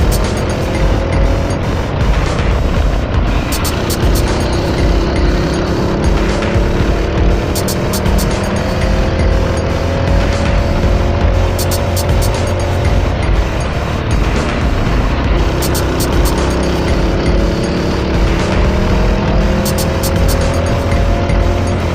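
Racing cars on the Forest Edge track drive continuously to warm up their tyres, a steady loud engine drone with shifting revs and occasional tire noise, close throughout.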